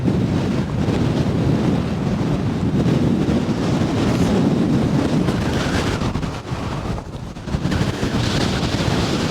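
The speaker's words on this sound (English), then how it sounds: "Oh, that wind is absolutely brutal" Strong wind buffets the microphone on an 883-metre Lake District fell summit, a steady loud roar throughout with a brief dip near the end.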